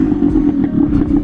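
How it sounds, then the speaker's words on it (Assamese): Yamaha RX135 motorcycle engine running steadily and loud close by, a continuous low two-stroke drone with slight fluctuations and no talk, out on the road in light rain. "এতিয়া মই চলাম বাইক"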